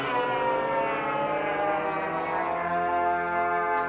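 Minecraft goat horn 'Call' note from the game: a loud, sustained brassy horn blast rich in harmonics, holding steady for about four seconds with a slight swell, no talking.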